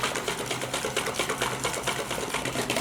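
Crepe batter being whisked by hand in a bowl, a fast, steady clatter of rapid strokes repeating evenly and close by with no talk.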